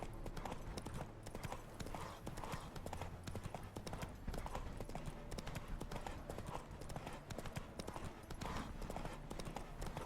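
Roach, the horse in The Witcher 3, trots along a path with steady rhythmic clip-clop hoofbeats, moderately quiet and continuous, with faint speech in the background.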